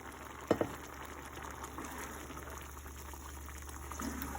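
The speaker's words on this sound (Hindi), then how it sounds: "मैं पानी समेत इसको इसके अंदर ऐड कर दूँगी।" Cooked kidney beans and their cooking water tipped into a pan of masala for a red kidney bean curry, giving a steady hissing, bubbling simmer with two quick clicks near the start and no talk.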